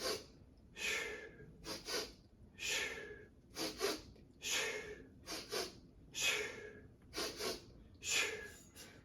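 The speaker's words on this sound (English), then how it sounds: "a really fun breathing technique to play around with is also to go sniff, sniff as the bell passes" Sharp nasal sniffing breaths repeated in pairs and triplets at a steady rhythm while a mace bell is swung around the body, close and fairly quiet with no talking.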